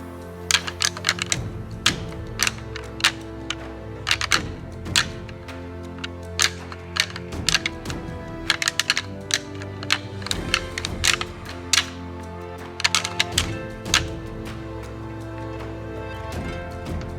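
Antlers rattled together in timber to call in a deer buck, giving irregular bursts of sharp clicking and clattering, loud and close, with short pauses between the flurries.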